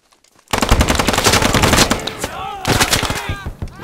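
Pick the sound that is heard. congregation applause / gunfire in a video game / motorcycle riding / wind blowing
gunfire in a video game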